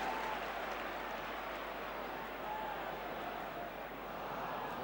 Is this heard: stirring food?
no